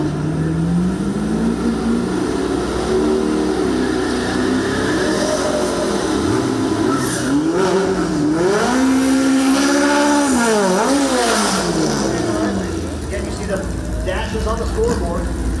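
Drag racing cars at a track, including a sixth-generation Camaro, roar loudly with engine pitch sweeping up and down through revs, under an announcer's continuous commentary.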